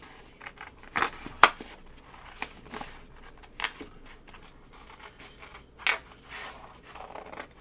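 Scissors trim a paper card shape in a crafting setting, giving a handful of sparse, soft snips and crisp paper rustles heard close and quiet, with no talking.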